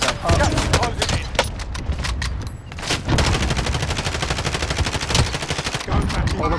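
Rapid automatic gunfire in Call of Duty: Modern Warfare, loud dense bursts of shots with brief pauses, some sharp single cracks, and voices talking under the shooting.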